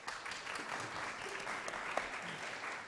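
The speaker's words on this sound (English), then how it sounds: "That's the first round of applause." An audience at a school election hustings applauds, a dense steady patter of many hands, moderately distant and fairly even throughout.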